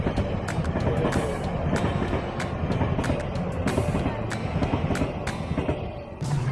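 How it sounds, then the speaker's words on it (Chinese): A train passes close by, a loud, steady rumble with rhythmic clatter that fills the whole stretch and eases slightly at the end. "火车来喽！"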